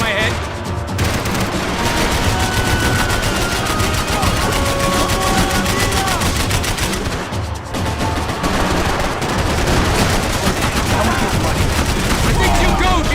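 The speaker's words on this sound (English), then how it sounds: "I can't concentrate with bullets whizzing past my head." Dense, continuous gunfire in Max Payne 3, rapid bursts and overlapping shots filling the scene almost without pause, with a short lull partway through.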